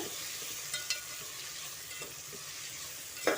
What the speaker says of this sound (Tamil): பட்டாணி, பீன்ஸ் 3 போட்டு நல்லா கிண்டி விட்டுக்கோங்க.